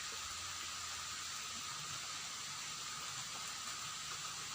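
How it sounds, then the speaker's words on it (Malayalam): Heavy rain falling steadily in an even, continuous hiss at moderate distance, with no breaks or other sounds standing out. "മഴ ശക്തമായി തുടങ്ങി."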